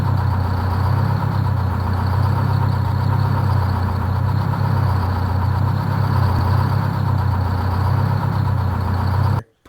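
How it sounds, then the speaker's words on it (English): A diesel truck engine idles nearby with a steady, unbroken low rumble and drone that holds evenly for nearly ten seconds, then cuts off abruptly at the very end. "I have some pretty good clips of the sound from the engine"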